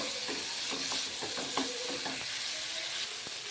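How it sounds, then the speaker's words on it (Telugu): Green chillies and tomatoes fry in a pan for a bottle gourd chutney, a steady close sizzle with a few clicks and scrapes of stirring and no voices. "చూడండి పచ్చిమిరపకాయలు టమాటాలు ఈ విధంగా వేస్తున్నాయి"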